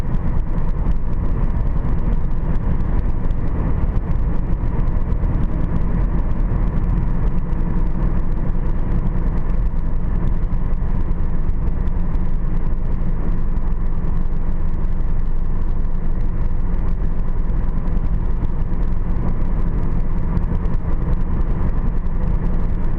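A car cruises steadily along a road at around 70 to 80 km/h, a continuous loud low rumble of engine and tyre noise with no break.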